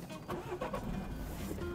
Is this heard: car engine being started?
yes